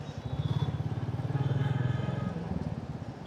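A motorcycle rides past on a rough, potholed road in heavy traffic, its engine giving a steady pulsing throb that stays close and loud for a few seconds, swelling slightly and then easing off.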